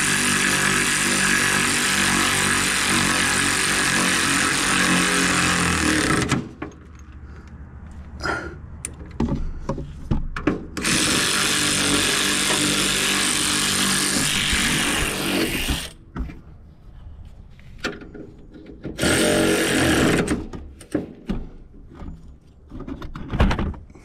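Bolts being tightened down on the steering box of a 1955 Triumph TR2 during installation, loud mechanical ratcheting and whirring in long sustained bursts with short clicks and knocks between them, close up and alone.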